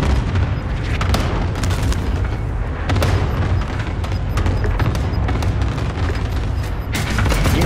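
A cluster strike in a shooting video game sets off a loud, continuous barrage of booming explosions that overlap densely for several seconds, with a few sharper blasts standing out from the roar.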